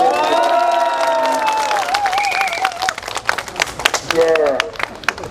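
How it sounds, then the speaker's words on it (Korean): A crowd at a Korean street protest applauds an activist, bursts of clapping and some cheers alongside an amplified speaking voice. "다시 한번 힘찬 박수로"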